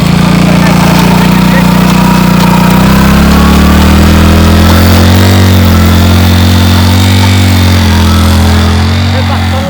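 A motorbike engine runs steadily near a riverside spot, a loud continuous idle-to-rev drone with a slight pitch shift partway through and no clear separate blips.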